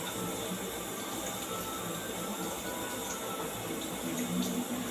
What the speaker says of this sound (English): we should always rinse our elbow down to our hands under the running water